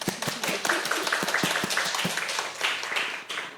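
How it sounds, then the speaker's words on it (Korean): A talk-concert audience gives welcoming applause, a moderately close burst of clapping that thins out toward the end. "환영의 박수 한 번 더 부탁드릴게요."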